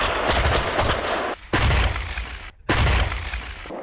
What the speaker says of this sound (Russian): Боевые стрельбы на Осиповичском полигоне провел гаубичный самоходный дивизион.